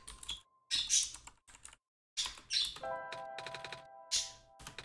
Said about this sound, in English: Pressing literally all of the buttons right now, and none of them do backspace.